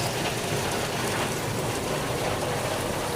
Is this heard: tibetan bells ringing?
no